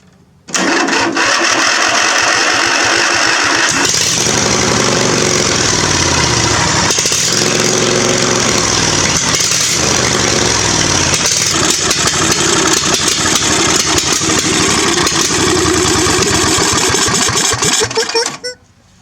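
A Murray riding lawn mower with a freshly cleaned carburetor cranks and catches, then runs loud and close at a steady, slightly uneven idle before cutting off near the end.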